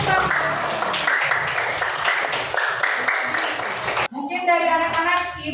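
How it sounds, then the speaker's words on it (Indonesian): Schoolchildren in a classroom clapping together, a loud burst of scattered applause for about four seconds that cuts off abruptly, followed by a voice speaking. "Tepuk tangan."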